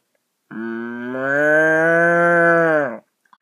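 A cow gives one long, loud, steady moo that swells slightly and then stops, followed by a few faint clicks, with no other sound around it.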